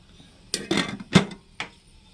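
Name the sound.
covering the biryani rice pot with a lid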